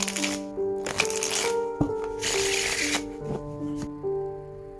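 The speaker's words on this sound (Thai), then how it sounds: "เดี๋ยวจะมาสับไพ่และดูกันเลยนะครับ" A deck of tarot cards is shuffled in several quick, crisp riffling bursts close by, set against soft tonal background music, with no one speaking.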